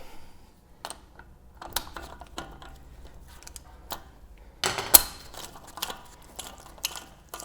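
A ratchet with a 54mm socket works on the steering knuckle nut of an 80 Series Land Cruiser, giving scattered close clicks and mechanical clacks with one sharper metallic knock midway, in a quiet workshop without talk.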